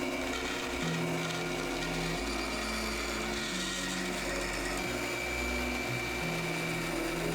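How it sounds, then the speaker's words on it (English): A bandsaw cuts out a curved arc in a piece of wood, a steady motor drone with a shifting, rasping blade tone that rises and falls as the cut progresses, close and continuous without any talking. "now I can head over to the bandsaw to cut it out"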